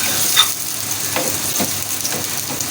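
Chopped ingredients fry in a pan with a continuous, fairly loud sizzle and a few soft stirring scrapes, with no talk.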